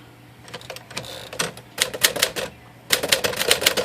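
Rapid, loud key strikes on a 1955 Smith Corona Silent Portable typewriter, close-up, in clustered bursts with a brief pause and no talking.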